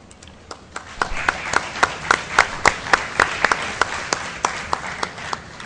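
Applause from an audience at an international telecommunications and internet governance workshop, a steady patter of many hands clapping with sharp individual claps standing out, sustained and fairly close.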